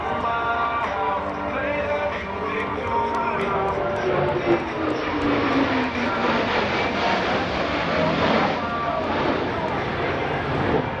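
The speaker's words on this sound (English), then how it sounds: "Ladies and gentlemen, the Blue Angel double barbel." US Navy Blue Angels jets fly at the NAS Oceana airshow with a loud, sustained roar that shifts in pitch as they pass, while an announcer speaks over the public address.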